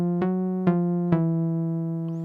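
A Roland MC-303 groovebox plays a sustained, bright synth tone from sound 9 of bank 2, with three evenly spaced note retriggers that add a short percussive attack before the tone rings on alone.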